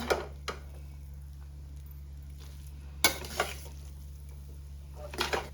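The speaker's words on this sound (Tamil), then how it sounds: "சோயா சாஸ் வந்து ஆட் பண்ணிவிட்டு நல்லா மிக்ஸ் பண்ணிவிடுங்க" Rice noodles stirred with soy sauce in a pan, giving a few scattered scraping clicks over a steady low hum, with quiet sizzle in between and no voices.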